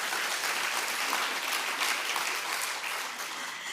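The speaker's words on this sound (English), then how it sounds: "Clap for Prof. Yazid's wife." An audience at an inaugural professorial lecture gives dense, sustained applause that fills the hall evenly and eases slightly toward the end.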